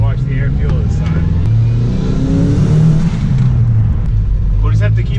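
Engine of a drift car during an acceleration pull, a loud continuous droning rev that rises and settles, with a person talking over it.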